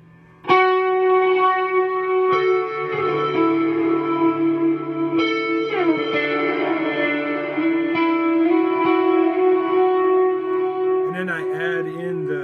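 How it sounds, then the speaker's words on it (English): Electric guitar played through a Nonlinear Blue Sky reverse reverb, sustained chords that swell and smear into a long washy tail, loud and close, with a few changes of notes over the phrase. "I'm using my nonlinear blue sky reverse reverb"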